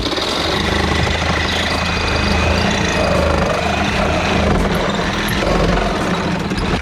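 A 20-year-old Milwaukee Sawzall reciprocating saw cuts into the firewall of an E34 Touring, a loud, steady, buzzing roar that runs continuously up close without pause.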